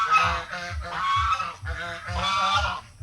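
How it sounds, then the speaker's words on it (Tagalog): Several geese kept on a small farm honk continuously, loud overlapping nasal calls close up, with a low throbbing hum running underneath and no voices. "Ayan ang gansa. Ang ingay ng gansa."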